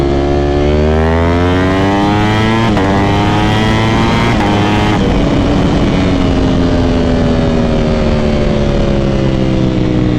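Ducati Panigale V4 SP2 with a stage 2 ECU flash revs hard toward the first-gear redline, loud and close, its harmonics sweeping upward in repeated climbs before settling into a steady high howl.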